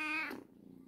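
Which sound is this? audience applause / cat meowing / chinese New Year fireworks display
cat meowing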